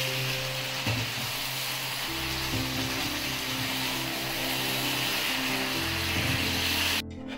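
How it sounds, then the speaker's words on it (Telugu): Gongura leaves cook in a pan for onion gongura chutney and get stirred now and then. A quiet, steady sizzle runs throughout with a few soft scraping strokes, and nobody speaks. "మనం గోంగూర అడుగంటకుండా ఒకసారి అలా తిప్పుకుందామండి"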